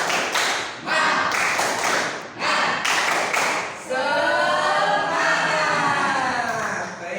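Children doing the tepuk semangat clapping chant in a classroom: short bursts of rhythmic group clapping in patterned beats, then young voices calling out together in a sustained shout.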